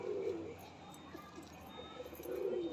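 A male pigeon coos in a loft in Bagnan, two low, throaty coo bursts at the start and end over faint background noise.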